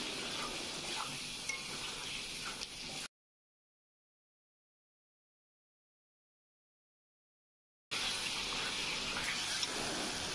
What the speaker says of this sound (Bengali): এবার টক দই দিয়ে দিলাম, ভালো করে নাড়াচাড়া করে কষিয়ে নেব।